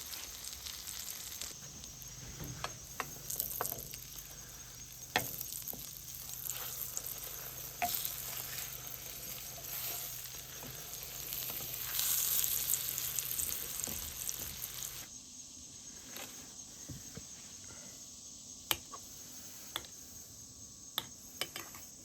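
Potato pockets filled with cheese sizzle steadily in a pan over medium heat, a constant close frying hiss with occasional soft taps and scrapes, quieter and thinner in the final seconds.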